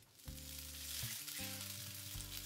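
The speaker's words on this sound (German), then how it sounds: "Ein bisschen Öl in eine Pfanne geben und als allererstes müssen wir die Gnocchi anbraten." Gnocchi browning in a little oil in a pan, a steady bright sizzle with brief surges as the pieces are moved, close and alone.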